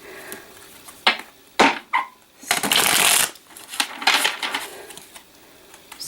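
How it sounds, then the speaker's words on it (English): Vintage Morgan Greer tarot deck shuffled by hand in a series of crisp riffling bursts, the cards snapping and flicking close by with short pauses between shuffles. "Just going to shuffle a few more times."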